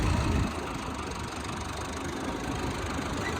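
A farm tractor's engine runs at a steady idle on a field during wheat and barley sowing, with a low, continuous mechanical rumble that stays even and nearby after a brief louder start.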